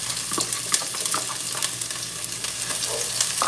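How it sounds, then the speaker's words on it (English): Onions hit hot oil and fry with a loud, dense, continuous sizzle full of close crackles and pops. "the oil is hot. We're gonna add the onions"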